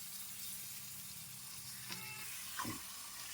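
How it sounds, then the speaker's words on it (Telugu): Chicken pieces fry in a pan with a steady, soft sizzle, and a couple of brief clinks or splashes near the end as the meat is moved. No one speaks. "ఇక్కడ అయితే చికెన్ అయితే వేగుతుందన్నమాట"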